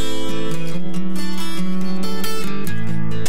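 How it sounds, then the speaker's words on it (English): Acoustic guitars heavily squashed by a parallel compressor, heard pre-fader on their own: sustained strummed chords with a dense, even, upfront body and little dynamic variation, no voices. "So that's the parallel compression."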